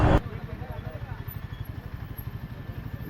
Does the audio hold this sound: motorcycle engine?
yes